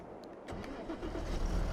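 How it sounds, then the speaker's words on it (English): Tractor engine starting in Farming Simulator 22 on PS5, a brief crank followed by a low rumble that swells and steadies into a running engine, moderately loud with no talk. "start the engine"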